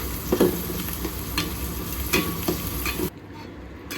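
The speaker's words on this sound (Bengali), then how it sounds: "এখন আমি কলমি শাক রান্না করতেছি" Water spinach (kalmi shak) fries in oil with green chili, chopped onion and garlic, giving a close, steady sizzle broken by a few sharp stirring scrapes before it drops quieter near the end; no one speaks.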